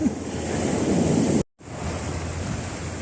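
Sea waves surging beside a RoRo ferry while fishing with bamboo from its side, a steady loud broadband wash with wind buffeting, briefly cut to silence midway before resuming.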